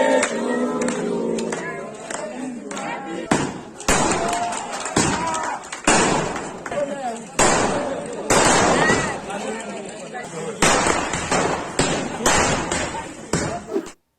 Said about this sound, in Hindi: यहां तो आतिशबाजी का खेल चल रहा था